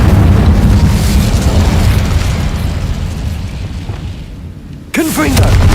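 An Incendio fire spell erupts in Hogwarts Legacy with a loud, sustained booming roar of flame that slowly thins out, followed by a sharp burst and a voice near the end.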